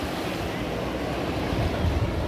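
Surf at Boa Viagem beach in Recife washes in a constant broad hiss and rumble, with wind buffeting the microphone and no clear speech.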